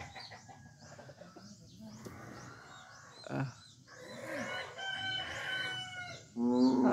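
A rooster crows several times amid background clucking and bird calls, with a loud crow near the end.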